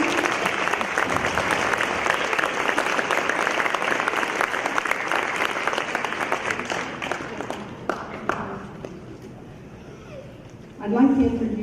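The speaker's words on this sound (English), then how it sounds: "Applaud the fifth grade again" Fifth grade students at a school building dedication draw loud, sustained applause from a crowd that fades out near the end, followed by a brief burst of nearby talking.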